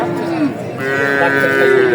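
A ten-month-old Jersey heifer gives a short, close, loud moo at the Talgachhi cattle market in Sirajganj. Market background noise fills the brief moment around the call.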